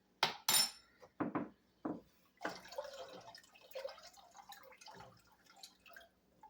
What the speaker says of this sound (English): We're going to add our citric acid and stir.